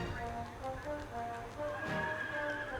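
A horse at outdoor horse pens in Colorado whinnies faintly in the distance, with scattered clip-clop and wind-like background noise and no talking.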